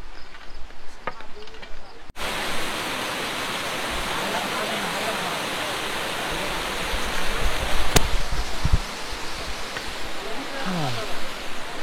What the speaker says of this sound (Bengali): একটা ঝর্ণার আওয়াজ পাওয়া যাচ্ছে